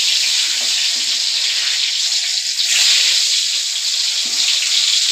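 Potatoes coated in turmeric and salt drop into hot oil in a wok, producing a loud, continuous crackling sizzle that swells slightly midway and stays close throughout.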